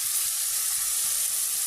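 Onion, ginger paste and chili powder sizzling while frying in a home kitchen as fish curry is prepared, a steady close hiss with faint stirring scrapes throughout and no voices.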